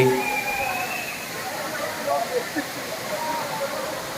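Bee Falls waterfall in Pachmarhi, India, roars steadily as a broad, continuous rush of falling water, with a voice faintly mixed in.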